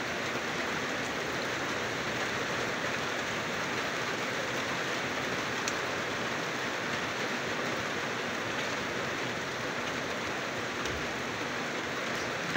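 Steady morning rain falls continuously, a dense even hiss of drops on surfaces that holds at one level throughout, close and enveloping with no voices.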